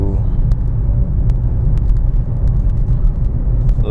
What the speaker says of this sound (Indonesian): kita coba akselerasi dari mobil ini ya